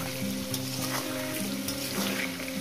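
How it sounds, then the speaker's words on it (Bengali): Potatoes fry in plenty of hot oil for a spiced potato dish, sizzling steadily with a dense crackle and occasional sharper pops, close and unbroken, with no talking. "তেল আমি আলুটাকে ভেজে তেল সাইড থেকে তুলে নেব"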